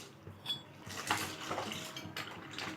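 About one and a half cups of dry pasta poured into a pot of boiling water for a creamy cheese pasta, giving a close rattling clatter over a bubbling wash of water, with no talking.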